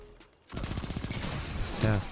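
Rapid SMG fire in a first-person shooter video game, a fast dense burst that starts abruptly and keeps going at close range, loud, with a voice speaking over the end.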